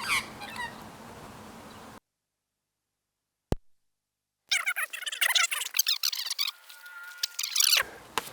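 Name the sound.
magpies calling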